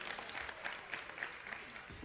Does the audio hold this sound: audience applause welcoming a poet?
yes